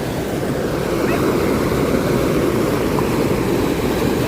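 Steady, loud rushing water roars without a break, a broad continuous wash of floodwater flowing over a road close by in Santa Maria, Bulacan.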